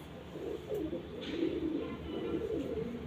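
A Punjabi pigeon coos softly and steadily at close range, a low continuous murmuring call over quiet background noise.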